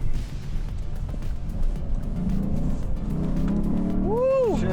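Lexus RC F Fuji Motor Track Edition engine revving on the road as the driver works the 8-speed paddle shifters, a steady close drone rising in pitch near the end, with a voice speaking over it.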